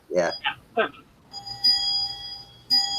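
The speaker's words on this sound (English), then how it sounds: "somebody's bell's ringing. We call That's my clock again. Oh, it is the ship's clock." A ship's clock bell strikes after a few words of speech, with clear sustained bell tones in two separate strikes ringing out and decaying.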